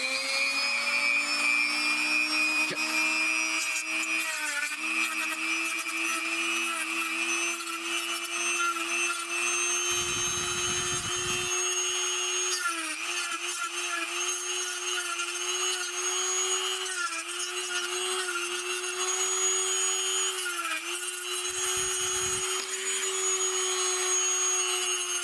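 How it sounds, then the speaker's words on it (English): A Dremel rotary tool grinds into a plastic action figure's crotch area, a loud high-pitched whine running continuously and close-up for the whole stretch, dipping briefly in pitch as it bites into the material. "I'm going to Dremel the inside of the crotch out"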